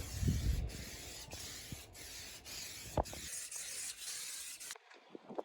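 Short hissing bursts of water-resistant protector spray applied to Ford Focus ST225 car seats, close and intermittent with rubbing and handling noises between bursts, ending in near quiet.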